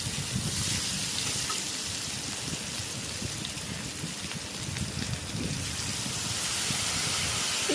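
Water-soaked poppy seed paste added to a hot pan of vegetable stems and potatoes, giving a steady, loud, rain-like sizzle and hiss that runs without a break throughout.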